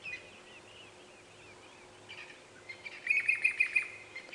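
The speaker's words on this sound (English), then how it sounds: "It sounds like we've either got a Jacobin or a Levalence cuckoo flying around here" A Jacobin or Levaillant's cuckoo calls on an African safari drive at sunrise, a series of rapid, repeated high chirps building toward the end over faint background birdsong.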